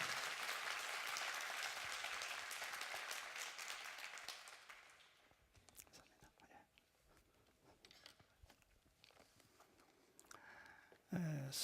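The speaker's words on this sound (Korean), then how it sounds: "우리 오익윤 목사님 큰 박수로 환영해 드리겠습니다." Congregation in a Korean church, gathered for a Holy Week special service, applauds loudly to welcome a pastor; dense clapping fills the first few seconds, then thins and fades into quiet room sounds.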